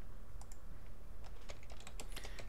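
Typing on a computer keyboard while coding an Express API, a quiet run of light, irregular key clicks that grows busier toward the end.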